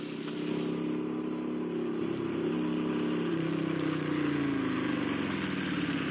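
Motorcycle engine idling steadily on a bridge during a roadside scene, a continuous low mid-pitched hum that holds at an even, moderate level throughout with no talk.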